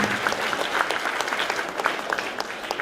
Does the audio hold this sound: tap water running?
no